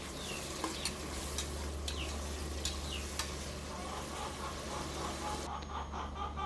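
Onions and tomatoes for a seeraga samba chicken biryani sizzle steadily in a pan, with scraping stirs and sharp spatula clicks against the metal over a low, constant hum.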